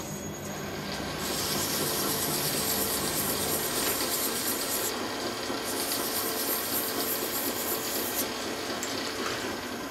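A small steel sine bar is rubbed with 3M super finishing film in a machinist's workshop, giving a soft, continuous scraping rasp in back-and-forth strokes, fairly quiet and close, with no talk.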